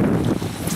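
Wind buffets an outdoor microphone on the bank of the Danube while a feeder rod is cast, a steady low rumbling roar filling the short moment with no talk.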